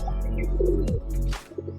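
Pigeons, a pair of Madrasi-type birds at a home loft, coo in low rounded bursts close to the mic, with a brief soft flutter near the middle before the calls resume.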